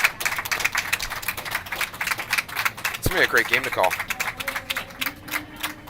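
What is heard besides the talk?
round of applause at curling event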